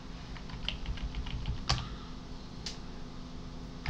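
Someone types on a computer keyboard while writing code in the Julia programming language, producing a quick run of light key clicks followed by a few sharper, spaced taps.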